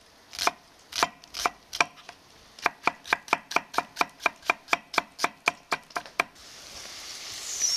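Quick, steady knife strokes chop through an onion on a board, about twenty crisp taps in a row, close and clear, ending in a soft hiss.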